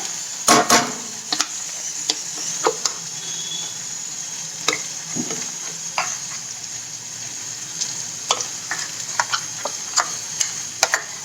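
Masala stirred and frying with softened tomatoes in a pan for country chicken curry: a steady low sizzle broken by scattered sharp scrapes and clicks of a spoon against the pan, close and alone with no talk.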